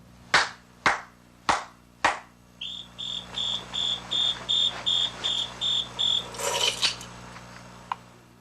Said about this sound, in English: it's called the Beep and Keep Key Finder. If you clap its coded message, it answers.